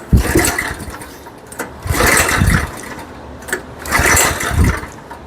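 Attempts to start a Coleman KT196 go-kart engine come in three pulls, each a brief rising burst of mechanical clatter and sputter separated by quiet pauses, but the engine never catches and runs.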